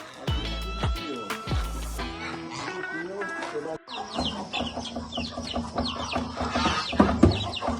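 Chickens and roosters at a farm cluck and squawk busily around feeding time, some calls loud and close, while people talk among the birds.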